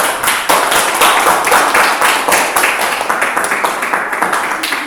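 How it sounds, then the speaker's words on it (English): A classroom audience claps hands together in a dense, steady round of applause that stays loud and continuous throughout, with faint voices underneath. "Can we clap hands for them?"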